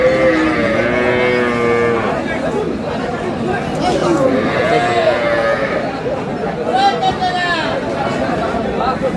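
At a cattle market in Aftabganj, Dinajpur, several cows and calves moo loudly and close, some calls long and drawn out, over the steady chatter of buyers and sellers bargaining.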